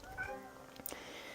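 A pet cat meows once, a short mid-distance cry heard over a steady background hum.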